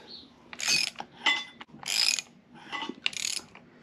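A ratchet turns an engine crankshaft during timing belt work on an H23A/F20B engine, giving five close bursts of rapid clicking separated by short pauses.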